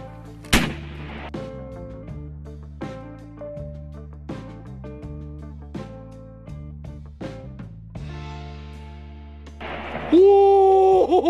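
An AEA Zeus .72 caliber PCP air rifle fires a large hollowpoint slug, giving one sharp, loud report near the start, followed by rhythmic clattering, background tones and an excited voice at the end.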